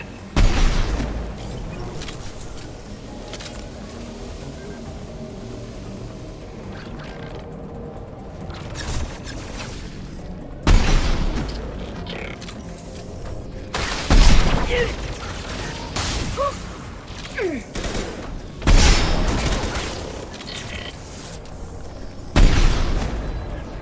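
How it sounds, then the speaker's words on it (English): Gunfire rings out in the video game Mass Effect 2 as shots hit a big light bulb, heard as several loud bursts and booms over a steady mechanical hum and clanking backdrop. "Shoot the big light bulb."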